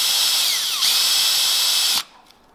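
Loud, steady whine of a drill press boring into wood for a Japanese hand plane, running for about two seconds and then cutting off abruptly into near silence.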